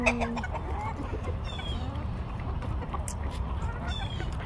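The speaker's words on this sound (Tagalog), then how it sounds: "My chickens this morning." Free-range chickens clucking outdoors in a morning yard, a steady mix of soft, scattered clucks and short calls close by over a busy, continuous background of rustling and ambient noise.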